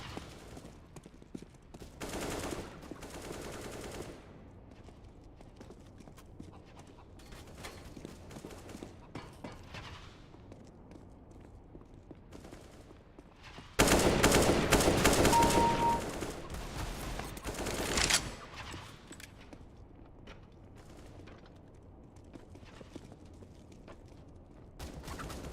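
Gunfire in Counter-Strike during a Vitality versus Into the Breach match, with scattered shots and bursts throughout and one loud sustained barrage in the middle, under faint background commentary.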